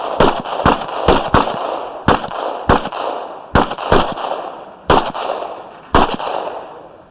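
Sharp gunshot reports at shooting practice, about nine loud close cracks fired at irregular intervals, each followed by a short ringing decay.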